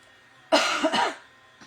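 A single close, abrupt cough in two quick bursts, then quiet.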